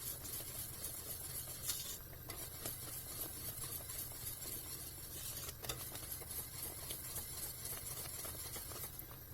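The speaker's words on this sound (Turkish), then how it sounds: "Bunu iyice yine karıştırarak biraz daha pişmesini sağlıyoruz." Meat with melted kashar cheese frying in a pan while being stirred, a steady close sizzle with soft spoon scrapes and light clatter running throughout.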